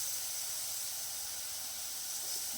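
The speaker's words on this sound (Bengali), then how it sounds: "তরকারিটা ফুটছে বন্ধুরা" Curry cooking in a pan with a little water added, a steady close hiss of simmering and steam running the whole time without a break, no voices over it.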